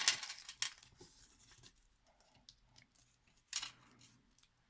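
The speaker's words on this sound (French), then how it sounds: "je puisse tout découper en une seule fois" Scissors snipping through a stack of washi tape strips on paper during a card-making craft session, a few crisp close cuts with quiet handling noise between them and no talking.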